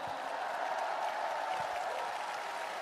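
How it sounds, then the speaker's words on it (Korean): A large crowd at a Democratic Party presidential nomination event claps for the candidates, a broad, even wash of applause heard from a distance, steady and unbroken, with a faint murmur beneath. "박수 한번 부탁드립니다."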